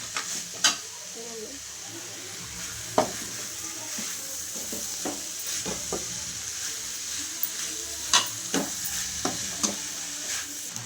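A coriander powder mixture is stirred in a pan with a soft steady sizzle, punctuated by repeated sharp scrapes and taps of a spoon against the metal.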